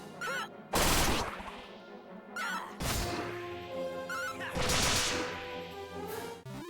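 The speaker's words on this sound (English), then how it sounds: "I love that it's got the old school sound effects still." Retro-style battle sound effects from Dragon Quest III HD-2D: loud bursts of crashing impact hits and brassy game tones, several in quick succession over a few seconds, with no talking.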